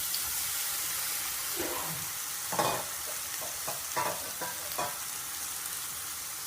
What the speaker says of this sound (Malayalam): പീച്ചിങ്ങ ചേർത്ത് നന്നായിട്ട് ഫ്രൈ ചെയ്തെടുക്കാം